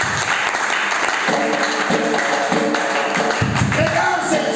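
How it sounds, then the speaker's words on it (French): A church congregation applauds during a worship service, a full wash of clapping, loud and continuous, with scattered voices and sounds mixed in. "Acclamons pour la parole de Dieu."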